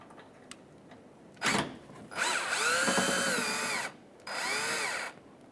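A power drill backs a Phillips screw out of a car bumper cover on a 2007-2013 Acura MDX: a short whirring burst, then a longer whining run, a pause and a final burst, all close up.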